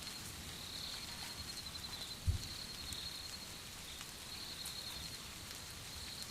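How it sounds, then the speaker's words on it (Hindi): Steady rain falls outside at night, a soft, even hiss of drops with a thin insect-like tone above it and one brief low thump; faint and continuous, no voices. "बाहर मूसलधार बारिश हो रही थी।"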